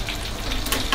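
Food frying in hot oil during home cooking of a Malaysian dish, a brief, steady crackling sizzle with faint stirring, no voices.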